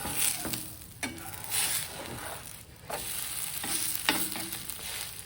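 A thin farali thalipeeth fries in a pan over a medium gas flame, giving a crackling sizzle that swells and eases in waves, with occasional soft scrapes.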